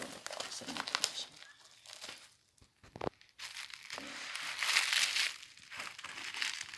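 Laptop box packaging being opened, with bursts of crinkling and tearing rustle that rise and fall, going quiet briefly near the middle before resuming louder; a person talks intermittently over it.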